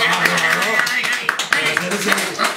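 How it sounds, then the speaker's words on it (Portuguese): Applause during a live cooking show, brisk close clapping with sharp individual claps throughout, voices talking over it. "Aplauso para Saco."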